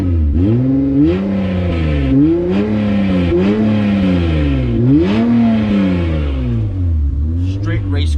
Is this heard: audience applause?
no